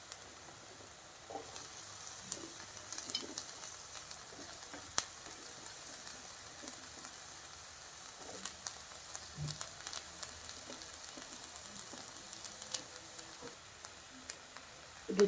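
Sweet corn frying in a pan, a faint, steady sizzle with scattered light crackles and small pops, close by and with no talking.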